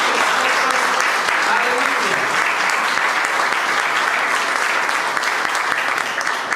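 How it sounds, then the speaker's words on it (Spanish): A church congregation claps steadily and continuously, a dense wash of applause filling the whole stretch without pause. "Yo creo que le podemos dar un aplauso al Señor por lo que hizo."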